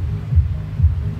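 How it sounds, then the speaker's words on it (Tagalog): Electric blower motor struggling to spin on low voltage, giving a deep throbbing hum that pulses twice in slow rhythm, close and loud with no other sounds. "Tumutunog kahit yung blower nakihirapan ng umikot"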